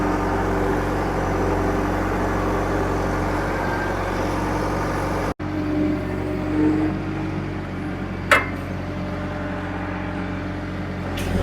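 An old abandoned digger's diesel engine runs steadily with its gear selector engaged, a continuous low rumble that drops out briefly partway, then resumes with a short clunk later.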